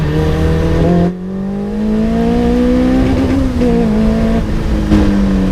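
A Caterham 420R sports car engine revs and accelerates loudly and close on a B road, its steady drone rising and falling in pitch, with a brief dip partway through.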